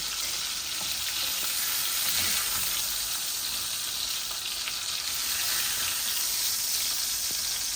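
Three koi fish frying in a pan over low gas, a continuous dense sizzle and crackle of hot oil, steady and close throughout with faint stirring.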